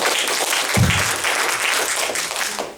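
A church congregation bursts into sustained applause after a closing prayer at a Full Gospel service, a dense, even wash of many hands clapping at close range for the whole stretch.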